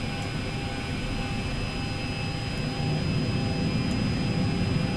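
Jet engines of an Avianca Boeing 737-800 spooling up for takeoff from Cartagena, heard from inside as a steady, loud broadband roar with a constant whine that swells slightly partway through.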